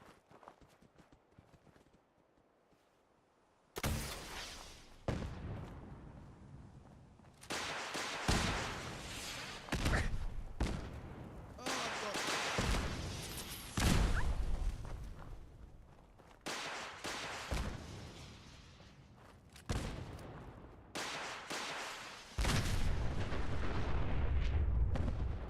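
Missiles explode in Fallout 4 with a series of heavy, booming blasts spread across the clip, each with a rumbling tail, loud and dense with little pause between impacts.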